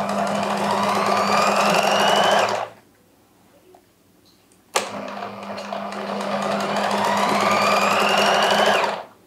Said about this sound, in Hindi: किनारे पे आपने लेस के सिलाई लगानी है।